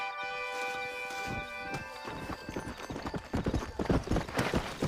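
Horse hooves clip-clop in the Red Dead Redemption video game, a steady rhythmic trot of repeated hoof strikes growing louder and closer, with a sustained tonal musical score underneath.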